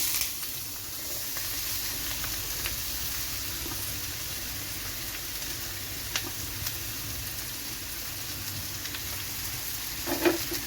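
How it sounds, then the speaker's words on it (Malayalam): Two thinly sliced onions hit hot oil and sizzle steadily in the pan, a continuous crackling hiss with occasional small pops, close and even throughout with no talking. "എണ്ണ ചൂടായതിലേക്ക് നമ്മൾ 2 സവോള ചെറുതായിട്ട് അരിഞ്ഞെടുത്തതാണ്."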